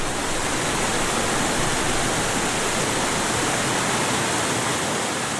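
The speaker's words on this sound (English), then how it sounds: "And you can almost just feel the rush of the Congo River." The Congo River rushes in a steady, dense roar of flowing water, continuous and even throughout with no talk.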